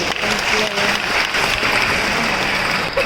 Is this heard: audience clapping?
yes